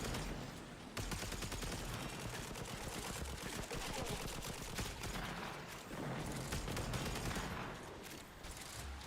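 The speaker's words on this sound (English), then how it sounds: "My gun only has so many bullets in it, so I can't really fire this thing for too long." Rapid gunfire with area-of-effect explosions in the video game Warframe, a dense, continuous barrage of shots and blasts that runs loud and steady throughout with no talking.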